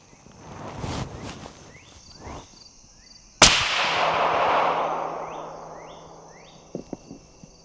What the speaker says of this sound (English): So we'll just shoot the 5 shots and hope that they're hitting somewhere on paper.